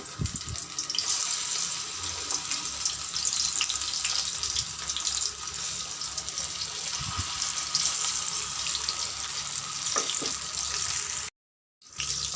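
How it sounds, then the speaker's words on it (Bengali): Mourala fish fritters, small flattened chops, frying in hot oil with a steady hiss that holds through most of the clip, broken by a brief silent gap near the end, with no one speaking. "এইভাবেও আমি উল্টে পাল্টে সব চপগুলোকেই ভেজে নেবো"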